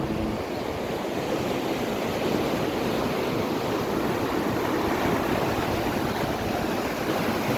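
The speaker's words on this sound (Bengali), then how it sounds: "এটা দিয়ে এই যে পানি যাচ্ছে।" Water rushes through a river sluice gate with floating water hyacinth, a loud, continuous broadband roar close by, with no voices.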